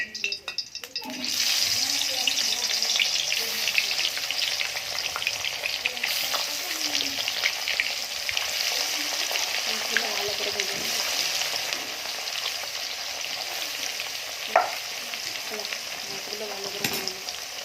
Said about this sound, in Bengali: এখানে আমার তেল গরম হয়ে গেছে। এবার আমি মশলা মাখানো মাছ দিয়ে দেবো।